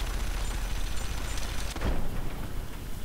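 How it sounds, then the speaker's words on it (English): A frag grenade goes off in Fallout 3, a heavy, booming blast rising out of a loud, continuous wash of noise and combat sounds. "Can I hit them with the frag grenade from here?"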